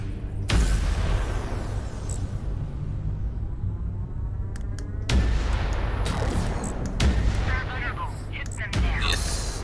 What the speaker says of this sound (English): missiles can launch